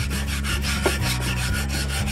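Steady back-and-forth rubbing as surface rust is scrubbed off the lid of a cast iron camp oven, close and even in rhythm, with no talk.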